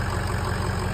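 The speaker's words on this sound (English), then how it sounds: "Very cool turbo noises." A 2003 Ford F-250 Super Duty with the 6.0L diesel and turbo idles steadily, a loud, close, continuous engine drone with no talk over it.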